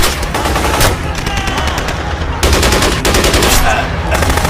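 Rapid automatic gunfire rattles loudly and continuously in bursts, dense cracking shots with a brief break midway, close and overwhelming over a noisy action scene.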